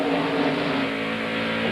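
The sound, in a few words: NASCAR Busch series race cars racing at Nazareth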